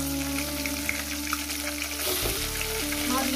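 Tengra fish frying in a hot pan with a little black cumin (kalo jeera), a steady close sizzle that shifts and swells briefly as the fish go into the oil, no speech.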